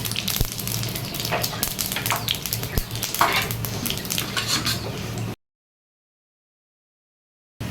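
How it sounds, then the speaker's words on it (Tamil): Mustard seeds, urad dal and vadagam fry in hot oil, giving a close, crackling sizzle with clinks of stirring. The sound breaks off into silence for a couple of seconds near the end. "கடுகு உளுத்தம் பருப்பு கொஞ்சம் போட்டுட்டு வந்து வடகம் கொஞ்சம் போட்டுக்கலாம்"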